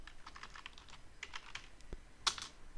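Light, quick keystrokes on a computer keyboard as a ROM file name is typed, a run of soft irregular clicks with one sharper key tap near the end, close by and alone.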